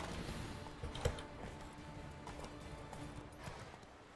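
Roach the horse gallops in The Witcher 3, hoofbeats thudding in a quick, steady rhythm at a faint, distant level against a low game background, with no talking over them.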